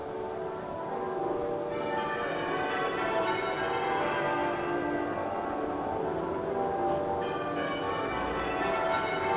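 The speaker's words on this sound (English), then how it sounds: "Bells peal on." Church bells peal after a royal funeral service in London, a dense continuous ringing of overlapping bell tones heard steadily at moderate distance with no talk.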